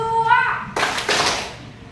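Schoolchildren in a classroom counting-clap game strike their hands together in two sharp, loud claps right after a voice calls out.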